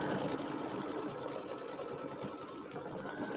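Embroidery machine stitching the placement line for a bunny applique on an Easter settee pillow, a steady rapid mechanical needle chatter, fairly quiet and continuous with no talking.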